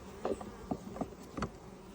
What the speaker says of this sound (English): the bees are coming in with pollen